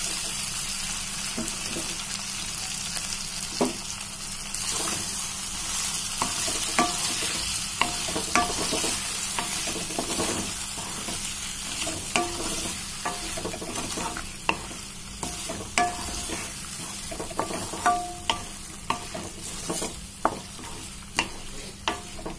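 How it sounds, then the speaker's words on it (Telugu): Boiled taro roots with turmeric are stir-fried in a pan, with a steady sizzle under repeated sharp scrapes and taps of a spatula against the pan, close and continuous. "మనం ఉడికించి పెట్టుకున్న శామదుంపలను కూడా వేసి వేయించుకున్నాం"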